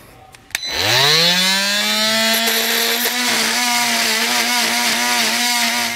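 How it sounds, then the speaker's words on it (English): A Sawzall reciprocating saw starts up and cuts steadily through a metal bracket during installation of Air Lift LoadLifter 5000 air helper springs, a loud close buzzing drone after a few handling clicks. "just take your time here, cut along here, and we'll get our bracket cleaned up"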